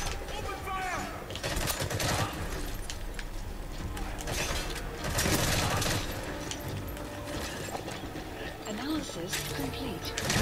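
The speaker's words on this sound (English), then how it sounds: "Who else is shooting at me?" Gunfire in Metal Gear Solid V rattles in repeated bursts and scattered shots during a firefight, with mechanical clatter mixed in and a voice talking over the shooting.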